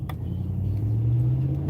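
A Hemi-engined car pulls away from a traffic light in city traffic, its low engine rumble rising steadily in pitch and loudness as it accelerates, close by and continuous with no talking.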